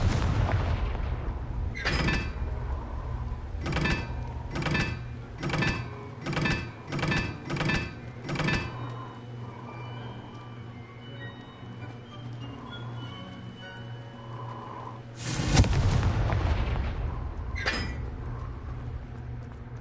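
The explosive Confringo spell in the game Hogwarts Legacy fires as a string of about eight sharp, evenly spaced booms, followed after a pause by a bigger blast with rumbling decay.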